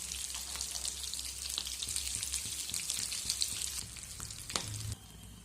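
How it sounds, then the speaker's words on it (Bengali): Snacks deep-frying in hot oil, turned over several times, give a steady dense sizzle with crackling bubbles and a few stirring clinks, ending in a sudden quieter moment. "বেশ কয়েকবার উল্টে পাল্টে স্ন্যাক্সগুলোকে ভেজে নিতে হবে"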